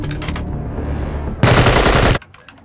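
Sustained machine gun fire in an action film, a loud dense burst of rapid shots that breaks in abruptly after a quieter stretch of ambient rumble, then cuts off sharply.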